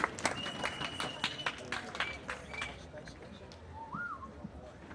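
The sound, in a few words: applause welcoming the pastor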